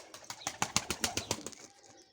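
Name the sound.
pigeons taking off, flapping wings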